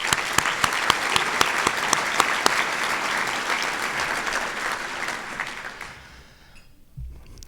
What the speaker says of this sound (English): So give all yourselves a round of applause